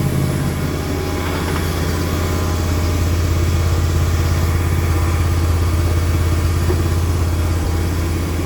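A snowblower engine idling, a steady close, loud low putter with an even pulse that holds unchanged throughout.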